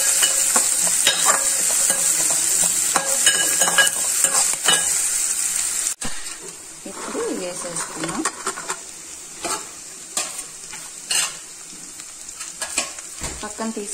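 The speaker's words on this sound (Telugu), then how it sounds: "ఇప్పుడు సన్నగా తరిగిన క్యారెట్ ముక్కలు వేసుకుంటున్నాను." Finely chopped carrots and onions stir-frying in a pan for sweet corn soup, a close, steady sizzle with frequent spatula stirs and scrapes, slightly quieter after a brief break midway.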